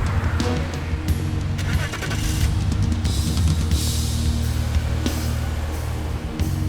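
A car engine runs steadily as the car drives, a continuous low hum with some road noise that stays at moderate loudness throughout.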